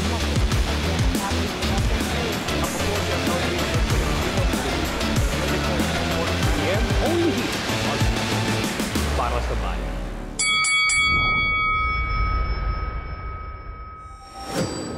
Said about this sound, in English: that's the opening bell for Round by Round